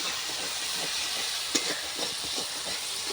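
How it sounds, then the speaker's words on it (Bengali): Pieces of rohu fish sizzle steadily in hot oil while being stirred, a continuous bright hissing fry with soft scraping clicks from the spatula throughout. "একটু তেল দিয়ে নাড়বো, ভালো করে ভাজবো।"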